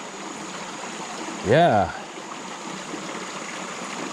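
A creek runs with a steady rushing trickle throughout, close and even, while someone briefly speaks once partway through.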